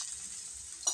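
Beetroot frying in oil gives a soft, steady hiss, with one brief clatter near the end, quiet and close, and no voices.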